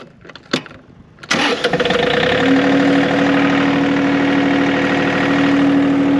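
A John Deere 4105 utility tractor with a hydraulic drive: a few clicks, then the engine cranks and fires, settling into a steady, loud, close running drone with a clear tonal hum.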